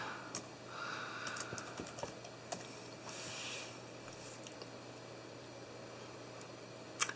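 Quiet, rapid tapping on the keyboard of a 12-inch iBook G4 laptop, a run of light close keystrokes with a slightly louder press near the end.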